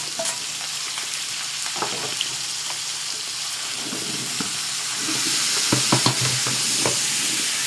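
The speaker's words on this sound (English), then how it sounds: "Now we are adding the vegetables." Vegetables hit a hot pan and sizzle steadily, a dense frying hiss that swells louder partway through, with occasional clinks of stirring.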